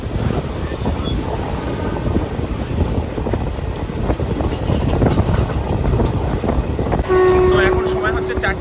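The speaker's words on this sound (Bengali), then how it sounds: "ট্রেন ছেড়ে দিয়েছে" Tista Torsa Express train pulling away from a station, a loud continuous rumble of wheels and wagons with wind buffeting close by, and a steady horn tone sounding near the end.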